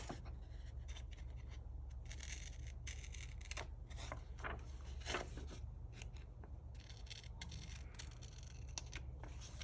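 Scissors cutting paper in a craft session, a quiet series of crisp snips and rustles coming close together and up close, with no speech.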